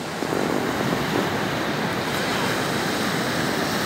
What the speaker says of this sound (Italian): Guarda un po' le onde del mare